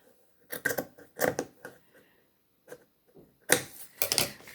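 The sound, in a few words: trimming a quilt block fabric piece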